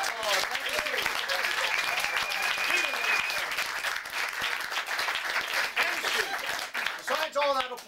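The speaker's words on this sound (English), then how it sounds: "let's give the young man a big round of applause" Steady applause from a magic show audience for a young volunteer, even and sustained throughout, with talking and chatter mixed in beneath the clapping.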